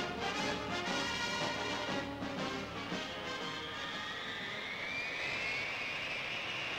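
Jet airliner carrying President Kennedy's party departing Washington in 1962: a loud, sustained engine roar with a rising whine that climbs steadily as the plane powers up, alone with no talk.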